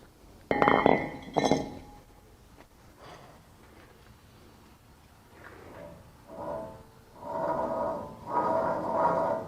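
Worn wheel hub bearing on a 2006 Toyota Tacoma knocks as the wheel is rocked by hand, two sharp clunks up close, then softer rattly movement and scraping.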